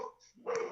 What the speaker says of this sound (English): Sister, go get your dogs real quick.